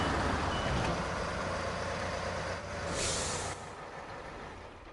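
A truck in the off-road video game SnowRunner lets out air brake hisses alongside reversing beeps, loud and close over constant engine rumble, with no speech.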